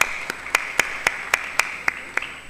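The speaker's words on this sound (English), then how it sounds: "why don't we give a round of applause first" Sparse, evenly spaced claps, about nine in total, ring out at a geopolitics conference session, sounding like a small, thin round of applause rather than a full crowd.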